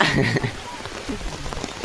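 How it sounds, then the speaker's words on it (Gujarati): Steady hiss of rain falling on a surface, close and fairly loud, continuous across the short stretch with faint voices underneath. "વરસાદ આવ્યો"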